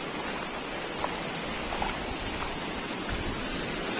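A steady, full rush of falling water from a waterfall fills the whole clip, constant and close, with no voices.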